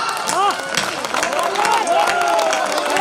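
Audience applause at a Hindi comedic poetry recital, a dense patter of many hands clapping at moderate strength under loud crowd noise and overlapping voices.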